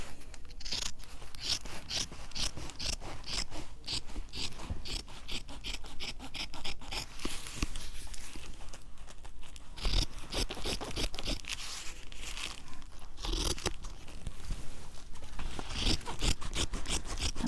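Shipping materials are cut for a handmade journal cover, producing steady, close crunching snips and scraping rubs that run continuously with no talking.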